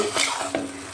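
Water added to a hot frying pan in a Rayalaseema-style curry brings a brief sizzle and a couple of quick stirring scrapes, close and sharp over a steady frying hiss.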